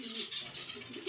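A domestic pigeon coos softly and close by, a short low rolling call repeated in quick succession over about a second, with no talking.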